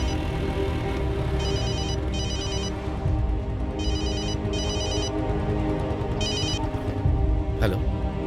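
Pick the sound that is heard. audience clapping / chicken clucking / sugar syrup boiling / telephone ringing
telephone ringing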